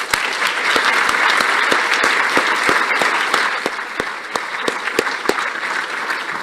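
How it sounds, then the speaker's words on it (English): Audience applause at a GA4GH Connect conference session, saluting the workstream leads and engineers: a steady wash of clapping from a crowd, dense and fairly loud, with sharp individual claps standing out, easing slightly toward the end, no talk over it. "can we give all the workstream leads and the engineers who've worked there a big round of applause?"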